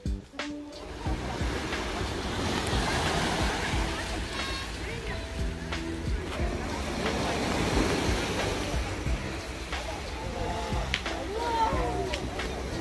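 Sea waves wash up a small beach on Somuuido island, Incheon, as the tide comes in, a steady close surf and sloshing roar with wind noise on the microphone and occasional knocks.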